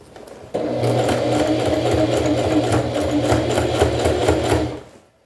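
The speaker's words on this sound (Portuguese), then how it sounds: "E vou costurar ele aqui" A sewing machine stitches a fabric toiletry bag in one steady burst of rapid, rhythmic needle clatter lasting several seconds, close and clear, then winding down and stopping.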